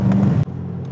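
A 2020 C8 Corvette engine pulls hard under throttle in a loud, close roar that cuts off abruptly partway, leaving a quieter lingering drone.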